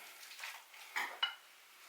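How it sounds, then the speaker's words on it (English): A spoon stirs salt into potato salad in a bowl, making soft scraping and squelching sweeps with two sharper clicks of the spoon against the bowl, close and quiet. "Stir it around and do that again."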